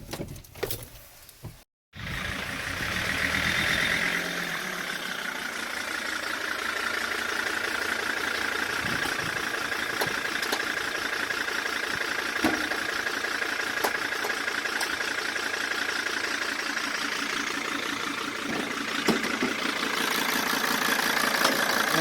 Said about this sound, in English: the engine's running like you would expect it to with the MAF unplugged